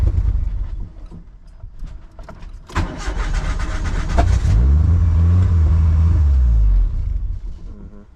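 A 1991 Mitsubishi Galant VR-4 with a 4G63 engine cranks with rhythmic starter whirring, catches and roars up into a loud, rumbling rev close by, then settles and drops off toward the end.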